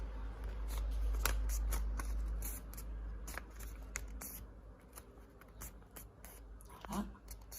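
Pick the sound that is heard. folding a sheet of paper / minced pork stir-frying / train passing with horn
folding a sheet of paper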